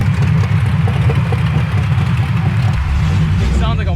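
A 6.0L V8 engine swapped into a BMW idles with a deep, rumbling, slightly lumpy burble close by, running steadily throughout and dipping briefly near the end, with a voice cutting in at the very end.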